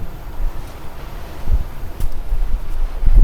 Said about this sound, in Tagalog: Lumalaban sa hangin. Sobrang lakas ng hangin.